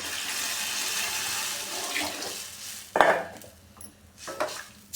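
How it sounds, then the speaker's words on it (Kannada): Water poured from a vessel into a pot of cumin-tomato sambar made without lentils, a steady splashing stream for about three seconds, then a clank and a few softer sloshes. "ಸಾಂಬಾರ್ ಪುಡಿ ಹಾಕ್ಕೊಂಡಿದ್ದ ನಂತರ ಒಂದು ಅರ್ಧ ಅಷ್ಟು ನೀರು ಹಾಕೋತಾ ಇದ್ದೀನಿ"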